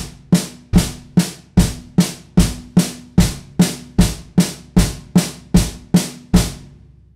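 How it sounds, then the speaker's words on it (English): A drummer plays a paradiddle with the bass drum on the first stroke of each group, a steady, even run of about fifteen sharp, close hits that decay quickly, with no talking. "Paradiddle. Right, left, right, right, left, right, left, left."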